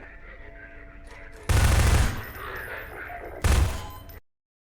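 Gunfire in Half-Life 2, two loud bursts of shots roughly two seconds apart over a low game background, each burst ringing briefly before fading.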